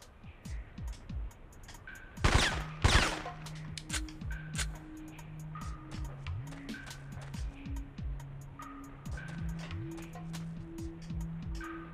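Two loud, sharp gunshot bursts ring out close together in the Syphon Filter video game, set over a steady bed of clicking game effects and tonal electronic tones.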